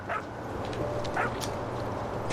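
A dog in the video game What Remains of Edith Finch gives a few short yipping barks and whimpers at close range over quiet background ambience.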